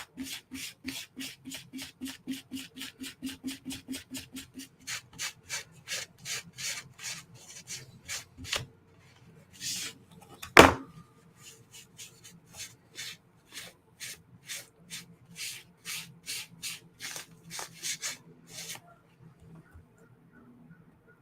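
A knife blade is rubbed clean with a magic eraser in quick, rhythmic back-and-forth scrubbing strokes, close and steady, pausing briefly once before resuming at a similar pace.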